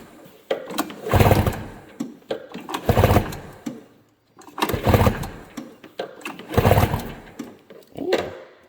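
A snowmobile engine with no carburetors and a compression tester attached is pull-started over and over, each tug giving a loud, close, rhythmic chugging burst, about four strong pulls with short gaps between.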